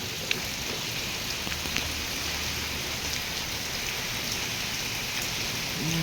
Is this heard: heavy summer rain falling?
yes